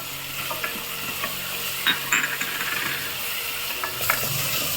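Ginger garlic paste and cashews frying in a hot pan for green peas pulao, a close, steady sizzle broken by scraping stirs of a spoon against the pan.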